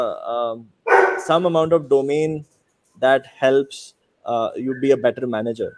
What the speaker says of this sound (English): I'm sorry for my dogs.